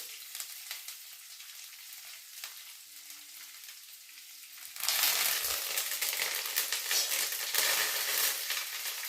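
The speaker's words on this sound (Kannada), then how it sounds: "ಇಲ್ಲಿ ಈ ಟೈಮಲ್ಲಿ ಹಸಿ ಮೆಣಸಿನಕಾಯಿ ಇದಕ್ಕೆ 10 ರಿಂದ 12 ಮೆಣಸಿನಕಾಯಿ ಇಡ್ತೀವಿ ಆಮೇಲೆ ಕರಬೇಕು" Green chillies fry in a pan for a cucumber poha dish, starting as a quiet hiss that swells midway into a loud, steady sizzle and crackle up close.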